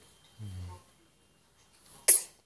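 A short, sharp sneeze from a newborn baby held by an older sister at home, one bright burst near the end after a soft cry and a quiet pause.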